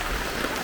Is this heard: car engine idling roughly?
no